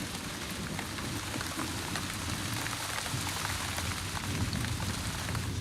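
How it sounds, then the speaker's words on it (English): Heavy rain pours down steadily and close by, a dense, constant hiss with wind blowing through it, continuing alone and unbroken throughout. "Pouring rain and blowing a hurricane ever since."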